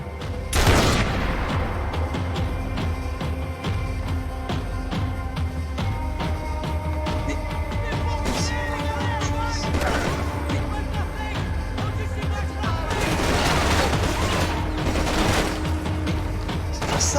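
Sniper gunfire in the video game Max Payne 3, with sharp reports and bursts of shots spread over a busy background of game effects and music, some louder blasts standing out.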